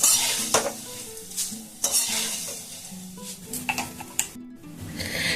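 Fried chanachur pieces lifted and strained out of deep hot oil, metal slotted spoon scraping and clinking against the pan over a background sizzle, in uneven bursts without speech.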